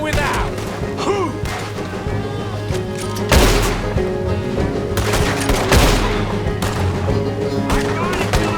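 Heavy gunfire in Red Dead Redemption 2, a shootout with dense overlapping rifle and pistol shots, loud close cracks and booming hits over a continuous background of more distant fire.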